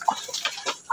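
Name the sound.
chicken clucking, Hulo Basilan and Rhode Island Red crossbreed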